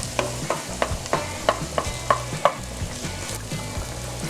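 Onions fry in a pot over a soft, continuous sizzle, and a spoon stirs them in a regular rhythm of knocks and scrapes, about two each second, close to the listener. No one speaks.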